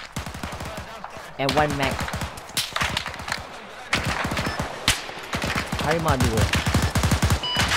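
Rapid bursts of automatic gunfire crack in close, repeated volleys with single shots between, coming from the north-west during a military-style operation, while voices talk over the shooting.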